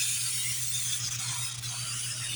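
Brake cleaner hisses steadily from a spray can onto a Nissan Frontier brake rotor, a close, continuous aerosol spray with a low hum beneath it.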